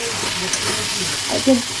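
Vegetables fry in a pan with a steady soft sizzle and hiss, joined near the end by a brief clink or scrape of stirring.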